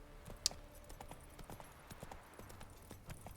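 A horse named Roach in a video game clip-clops at a steady trotting rhythm, hoofbeats close and moderately quiet, with one sharp high jingle early on.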